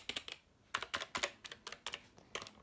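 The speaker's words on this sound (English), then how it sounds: "So this is my old keyboard membrane." Keys clack in quick bursts of typing on an old membrane computer keyboard, with short pauses between clusters of presses, close and fairly quiet.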